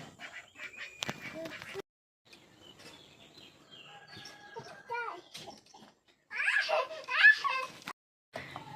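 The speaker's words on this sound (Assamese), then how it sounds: "আজি 30টা হাঁহৰ পোৱালি আনিছে দেই নতুনকৈ" Thirty newly brought duckling chicks quacking and peeping in short bursts, fairly close, mixed with a voice and people talking nearby, with brief quiet gaps between.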